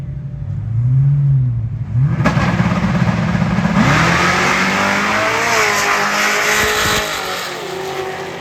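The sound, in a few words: drag race street cars, supercharged Camaro launching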